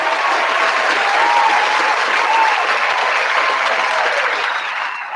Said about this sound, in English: What a rouse of applause.